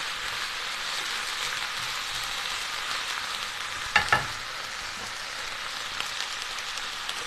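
Ginger and greens frying in a skillet on lowered heat, a soft steady sizzle with a brief clatter of stirring partway through, fairly close and without talk.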